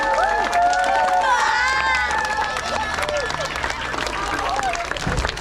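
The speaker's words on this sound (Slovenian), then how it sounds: "damo kar en aplavz" A crowd cheers and claps at a summer oratorio gathering in Moravče, with many excited voices shouting and calling over a steady wash of clapping throughout.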